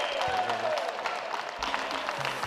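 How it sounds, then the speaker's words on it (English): Applause rattles steadily for a couple of seconds at a local election count, with a faint tone underneath, fairly quiet and at a distance. "Give him a big round of applause."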